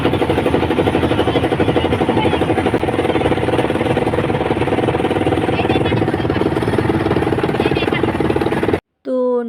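A motor boat engine crossing a small shallow river near Shilaidaha, Kushtia, chugging in a loud, steady, rapid rhythm close by before cutting off abruptly near the end.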